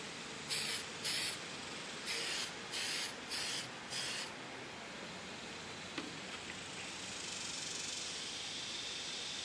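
Short bursts of spray paint from an aerosol can laying a first coat of blue paint on a body shell, six quick hisses in a row followed by quiet room hiss.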